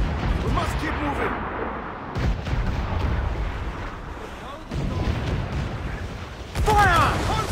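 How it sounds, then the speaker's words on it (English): Mortar fire in the naval combat of Assassin's Creed IV Black Flag: several heavy booms and explosive bursts break through a continuous din of battle, with one loud impact near the end and character voices shouting over it. "Mortar incoming!"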